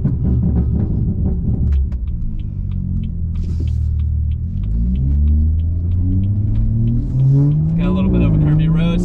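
A modded BMW 340i exhaust burbles and rumbles low as the car slows and downshifts, with rising engine tones and pops throughout.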